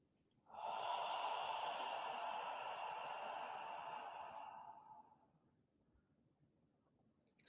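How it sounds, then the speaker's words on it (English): One long, steady nasal inhale of lemongrass essential oil, soft and close, lasting about four seconds before it tapers into quiet. "Take a short sniff of lemongrass."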